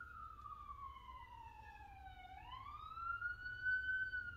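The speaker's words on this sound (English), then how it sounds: "There goes the ambulance." An ambulance siren wails from a distance as it passes, one long falling tone followed by a rising sweep, faint and steady with no talk over it.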